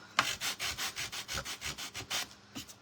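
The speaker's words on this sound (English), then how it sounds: "Maybe we can take the little sander to it" A small gator sander works over a wooden sign in quick, regular back-and-forth strokes, about a dozen rhythmic rasping passes, close up with no voices.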